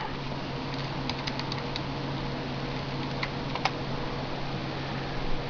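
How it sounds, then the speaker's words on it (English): Quiet, scattered key clicks from typing on a wireless computer keyboard, a few quick taps in short bursts over a steady hum of background noise. "My nice wireless keyboard."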